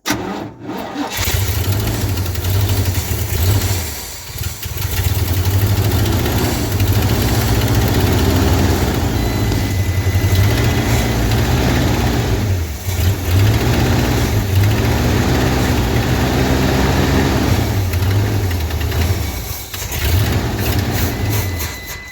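An old 1-ton pickup truck engine, revived after sitting about 20 years, runs steadily and loudly throughout with a deep, continuous low rumble and slight rhythmic surging, heard alone without talk.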